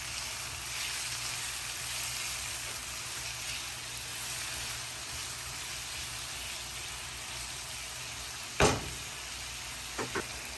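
Chopped green chillies and leafy greens sizzling in an open frying pan, a steady close hiss of frying throughout, with a sharp scrape or clatter near the end and a couple of lighter knocks after it.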